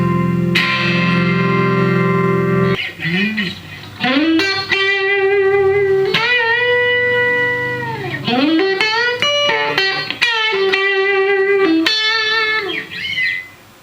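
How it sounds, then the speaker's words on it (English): A Stratocaster electric guitar plays bent, sustained blues notes through a small amp with a Weber Mini MASS 25 attenuator, a slightly distorted, singing tone, phrases separated by brief pauses. "I like to play blues tones with the Strat through this."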